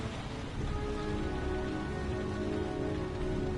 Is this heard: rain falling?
yes